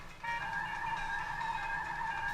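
A car braking in a racing video game on a handheld Super Pocket console: a sustained tonal squeal that starts abruptly and holds steady, fairly faint.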